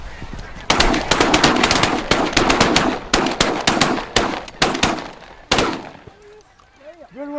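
Repeated shotgun blasts ring out during a barnacle goose hunt in Sweden, loud sharp reports in quick bursts that echo, then fade as geese honk and call nearby, with people speaking in the background.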